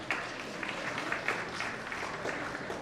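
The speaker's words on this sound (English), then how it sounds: "It's not often rabbis get applause." A synagogue gathering gives steady, moderate applause for rabbis being introduced, a soft wash of many hands clapping at some distance.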